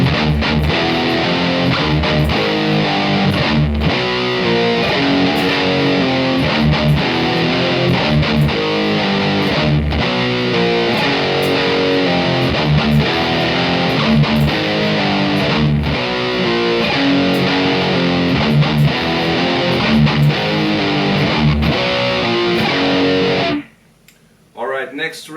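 Distorted metal guitar break played slowly with a full band, dense and loud throughout with steady picking, then stopping abruptly near the end.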